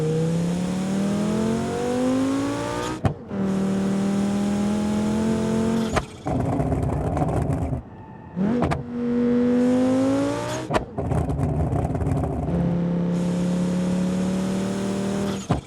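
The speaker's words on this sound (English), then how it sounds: "that exhaust might be a little bit too insane" An ETK I5 car in the driving game BeamNG.drive roars through loud revving runs with rising and falling exhaust pitch, broken by sharp gear-change cuts and brief pauses, close and dominant throughout.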